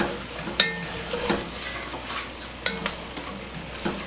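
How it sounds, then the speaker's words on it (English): Chili beans stirred in a pot, a low steady sizzle with occasional scraping strokes and light clinks of a utensil against the pot, close by and moderately quiet, no one speaking. "So we're stirring this up."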